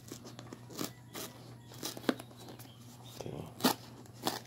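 Plastic crinkles and tears in short bursts as a spoon pries at a bag containing a Tanduay ready-mix cocktail drink, close up, with a brief spoken word in between.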